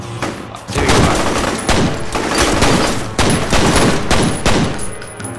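Loud, close gunfire in the video game F.E.A.R., rapid bursts of automatic shots repeating in quick succession with brief gaps and no talk over them.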